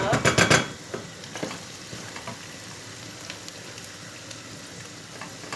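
Pepper paste and tomato paste stirred in a frying pan, a burst of rapid rhythmic scraping strokes at the start, then a soft steady sizzle with occasional spoon taps, close, with a voice faintly present.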